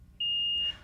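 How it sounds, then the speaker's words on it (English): A SmartMonitor2 infant monitor sounds its heart rate alarm, a single steady high-pitched electronic beep held for about half a second over a quiet low background hum. "if SmartMonitor2 detects a heart rate outside of prescribed range, you will see and hear an alarm."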